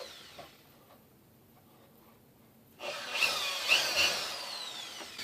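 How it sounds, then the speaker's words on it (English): A power drill bores a hole into the side of a wooden Halloween lantern, a loud, steady burst of whirring and grinding that begins partway through after a quiet stretch. "Take your drill, and you're going to just drill a hole"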